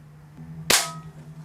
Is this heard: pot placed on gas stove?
no